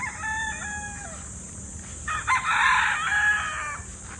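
Gamefowl stags, early bird, local and national lines, tied up at a farm, crowing in layered overlapping calls with clucks, loud and close, a second burst of crowing swelling midway and holding to the end.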